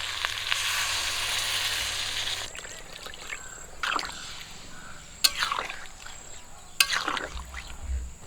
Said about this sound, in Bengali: রস করার জন্য জল দিয়ে দেবো।